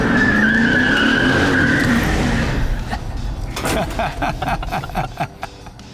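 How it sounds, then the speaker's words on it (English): A Dodge Charger's engine revs loudly as tires squeal and skid in a sustained screech while doing a donut, then the sound breaks into rough, rumbling bursts as it spins. "He thinks he's gonna set up and do a donut."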